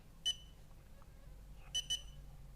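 Xiaomi Yi action camera powering on, giving a single short electronic beep followed after a pause by two quick beeps, clear and close over a low steady hum.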